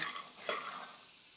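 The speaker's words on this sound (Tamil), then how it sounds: "இந்த வேர்க்கடலையை நல்லா வறுத்துக்கலாம்" Raw peanuts are dry-roasted in a pan, with a faint, brief rattle and scrape of the nuts being moved around, quiet and close, with no talk.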